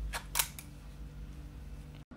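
A Leica IIIG film camera being wound on to the next frame, a few quiet close mechanical clicks and ratchets near the start, then a near-silent pause and one sharp small click toward the end.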